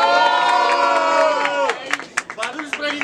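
A crowd at a student freestyle rap battle in Guarulhos, Brazil, cheers and shouts loudly at first, then breaks into scattered whoops and claps as the noise fades.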